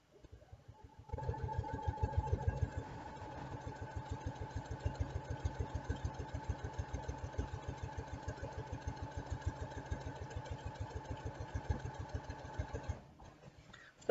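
A sewing machine stitches a pillow seam at a steady speed, its fast, even mechanical rattle running nearly continuously for about twelve seconds before stopping, with no talking.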